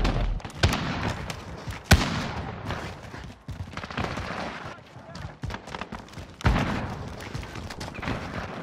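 Gunfire in Call of Duty: Modern Warfare, with sharp loud shots near 0.6, 1.9 and 6.4 seconds over a busy, noisy game mix, while players talk through it.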